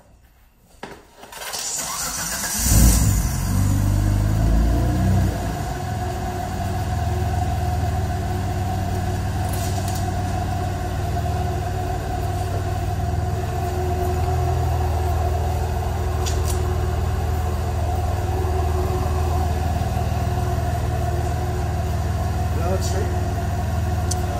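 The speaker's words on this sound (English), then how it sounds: "we're going to have Josh drive up on the ramps" A car engine cranks and catches, then settles into a steady, close rumble as the car is driven up onto a pair of ramps.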